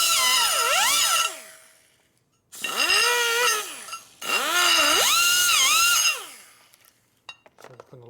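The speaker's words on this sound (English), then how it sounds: "Now you want to deburr the edge a little bit." A power tool deburrs the edge of a Harley twin cam motor part, whining loudly in three bursts with rising and falling pitch as it bites and eases, close up, and short gaps between runs.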